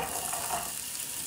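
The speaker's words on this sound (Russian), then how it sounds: "И теперь обжариваем в небольшом количестве растительного масла." Steady, crackling sizzle of onions frying in a little vegetable oil in a preheated pan, a close, even hiss throughout with no talking.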